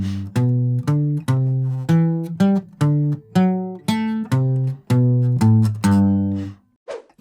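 Beginner muted guitar strumming on the low strings with added rhythm, quick paired strokes mixed with longer ringing strums in a lively uneven pattern, played alone.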